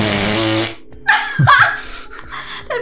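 A voice imitates a raspberry fart noise, a buzzy sputtering blast lasting well under a second, followed by a brief pause and then laughter and chuckling close up.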